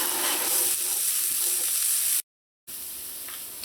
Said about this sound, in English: you're going to saute this until the onions and the garlic is nice and soft and tender